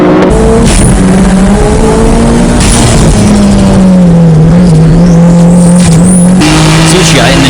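Nissan GTR race cars, 600-plus horsepower Nismo and MCR GTRs, racing on a track with loud engines droning and shifting pitch, brief tire squeals and passing roars, under a commentator's talk.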